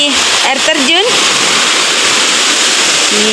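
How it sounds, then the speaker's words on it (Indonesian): A waterfall roars as a loud, constant rush of falling water. Voices chatter over it at first. "Ini air terjunnya, geng-geng."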